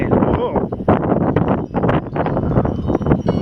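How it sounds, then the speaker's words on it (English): Gusty wind during a December snowstorm roars as a loud, continuous broadband rush buffeting the microphone, with a voice exclaiming over it. "Feel that wind."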